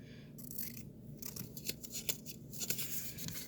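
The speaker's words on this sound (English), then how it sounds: "locate that scissors again and cut these circles apart" Scissors snipping folded paper circles apart for a math lesson, several close, quiet crisp cuts in an irregular rhythm with a faint papery rustle, no talking.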